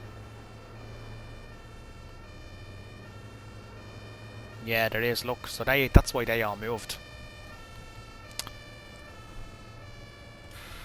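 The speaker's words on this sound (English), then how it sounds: "Is there another ambulance?" An ambulance siren sounds in the Omsi 2 bus-driving game on a Berlin route at rush hour, wailing in a rising and falling sweep for a couple of seconds in the middle, fairly close, amid simulated traffic noise while someone talks.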